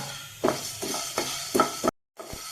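Black pepper dry-roasted in a pan without oil, a soft sizzle broken by periodic scraping stirs, four strokes in steady rhythm, then a brief silence and one more stir.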